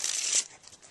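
A deck of playing cards being shuffled during a card trick, a brief close riffle of crisp flicking paper that fades into soft rustling, with no talking.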